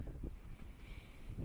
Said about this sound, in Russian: метель с ветром